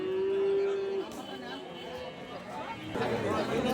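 A Sahiwal bull calf at a rural cattle market gives one loud, drawn-out moo up close, followed by crowd chatter and murmuring voices in the background.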